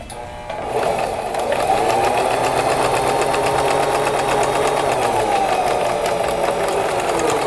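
Sewing machine running steadily as it stitches a small zigzag around the edge of a fabric notebook cover, a continuous close whirring hum with a fast rhythmic needle chatter that starts after a short moment and holds even throughout.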